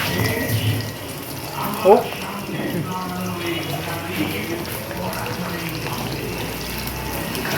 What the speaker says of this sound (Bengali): হাতটা ধুয়ে দিই